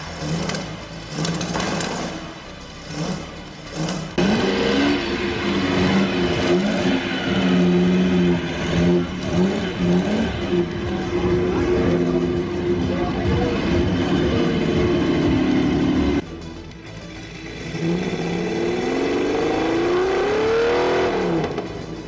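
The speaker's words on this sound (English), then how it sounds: "Try fitting a tank engine into a hot rod." Rotzilla hot rod, a 1928 Studebaker fitted with a Patton tank engine, roars loudly and steadily with a deep rumble, a brief dip around the middle before the engine swells again with a rising whine, no speech.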